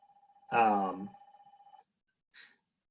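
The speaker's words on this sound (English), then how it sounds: "My phone's ringing." A phone rings as a thin, steady electronic pulsing tone for under two seconds, then stops. A nearby voice speaks over the start of the ring, and a brief faint sound follows after a pause.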